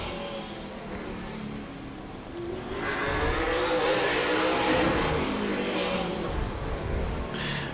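The number 33 race car on a track, Danny Webster of Right Foot Down Racing driving, swells from a distant engine drone to a loud nearby roar and then fades slightly as it passes.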